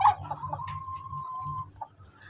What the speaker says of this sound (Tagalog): Mga manok na pangsabong.